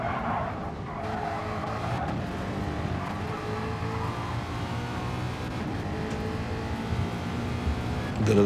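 A race car in a Gran Turismo Gr.3 endurance race at Bathurst takes a fast lap down the mountain, its engine droning steadily, tires squealing through the corners and the revs climbing near the end.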